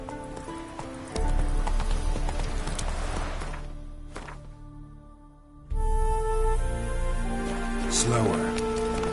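Roach, a horse in The Witcher 3 video game, galloping with rapid rhythmic hoofbeats that pause briefly and then resume, heard close alongside game music and speech.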